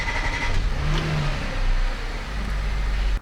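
An Audi B8 S4 with a Stage 2 ECU tune and a single pulley upgrade starts and revs up close. Its engine note rises and holds loudly for a few seconds, then cuts off abruptly.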